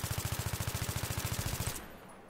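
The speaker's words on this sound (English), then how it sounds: "so let's try to mag dump" AEK assault rifle in Battlefield 3 emptying a full magazine: a fast, evenly spaced stream of about twenty-five loud shots in under two seconds, then abrupt silence as the mag runs dry.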